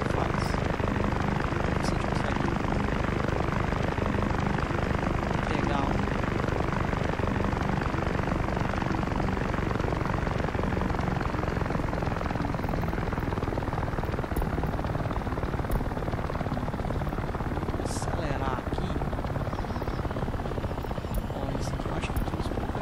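Red passenger helicopters in the Soviet-era city-building game Workers & Resources: Soviet Republic, giving a steady, droning rotor-and-engine hum that stays loud and continuous throughout, with faint game ambience and no clear talk.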